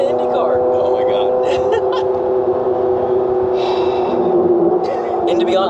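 A Corvette's engine and exhaust roar steadily while driving, a loud sustained drone heard from inside the car, with voices talking over it.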